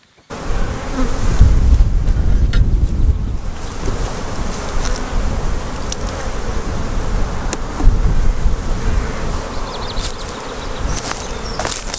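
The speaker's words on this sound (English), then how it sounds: "So what I'm going to do is just gently shake these bees off" Honey bees swarm around an opened hive with a dense, loud, continuous buzz close by. Sharp wooden taps and knocks break through it now and then.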